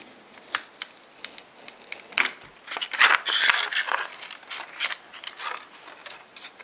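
Scissors cutting a piece of plastic for a bushcraft knife sheath, a series of close, crisp snips and scrapes in an irregular rhythm with no talking.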